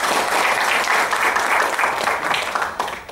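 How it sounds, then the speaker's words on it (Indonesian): An audience at an Indonesian gathering applauds the Brownies volunteers, a dense, steady wash of many hands clapping that thins slightly toward the end. "boleh tepuk tangan untuk Brownies di sini."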